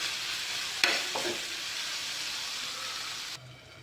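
Chicken coated in chilli powder is stirred in a tawa over a low flame, a steady bright sizzle with a sharp clank of the spoon early on, before the frying hiss cuts off abruptly near the end.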